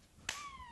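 A single sharp hand clap rings out once in a studio, a brief bright crack followed by a short ringing tail, used to set off a Petster robotic toy cat from 1985.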